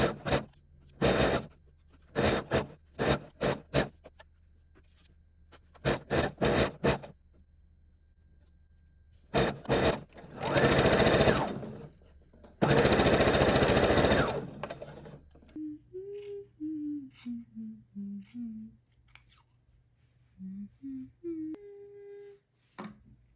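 A sewing machine runs in short stitching bursts along a skirt seam, pausing between runs, then two longer loud stretches of steady whirring; a few faint tonal whines and light handling noises follow at the end.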